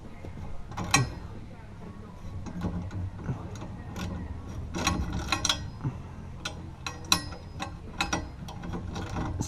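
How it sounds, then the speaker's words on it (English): Ratchet wrench clicking in repeated short bursts while the exhaust is removed from a Toyota AE86, sharp metallic ticks close by over a low background rumble. "This ratchet is a piece of junk."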